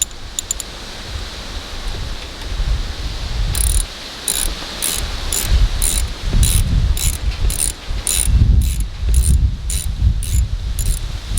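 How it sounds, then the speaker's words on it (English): Generator oil drain plug being screwed back in by hand, a series of evenly spaced ratcheting clicks over a low rumbling background, close and fairly loud, no talking. "Now we're going to put the oil plug back in."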